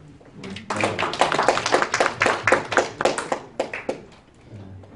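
Audience at a Korean arbitration-industry discussion forum claps to welcome a law professor panelist, a few seconds of scattered hand claps swelling into steady applause and then thinning out.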